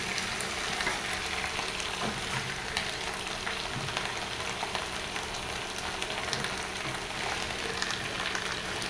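Onions fry in a pan for a small hilsa fish curry, a continuous soft sizzle with occasional faint stirring, steady and alone without talk.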